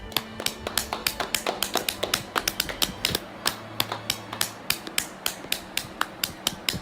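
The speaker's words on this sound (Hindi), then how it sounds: "कुछ घंटे सोने के बाद हमने तालियों की आवाज सुनी तो हमें लगा कि प्लेन लैंड हो गया है।" Passengers clapping aboard an airplane cabin, a series of sharp, distinct claps in an uneven but steady rhythm, close and crisp over a low background hum.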